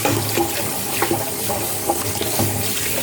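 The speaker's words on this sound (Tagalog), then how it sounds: "hugasan na natin itong ating herbal" Chinese herbal soup herbs rinsed under running water, a continuous loud gushing wash with small irregular splashes throughout, close and without speech.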